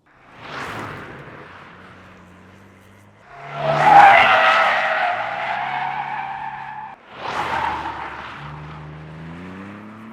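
Hyundai i20N, Ford Puma ST and Toyota GR86 taken one after another through the same corner, with three separate engine-and-tire passes and strong tire squeal and skidding on each. The middle pass is the loudest and longest, and no one speaks.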